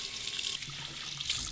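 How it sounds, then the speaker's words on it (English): Cold tap water runs steadily into a sink to rinse shaving gear, a soft close splashing stream that continues throughout at low volume. "Nice cold water rinse."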